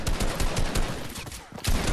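Gunfire in a video game, a close, loud burst of rapid evenly spaced shots that pauses briefly before a few more rounds crack out.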